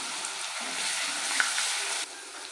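Garlic paste goes into hot oil with cardamom and cinnamon, producing a loud, steady, close-up hiss of frying that carries evenly through the clip and eases slightly near the end.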